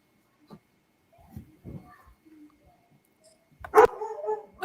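A dog named Wolfie, kept in a basement, gives a few faint whimpers and yips, then one sharp, louder bark followed by a short whining trail, with quiet room sounds between.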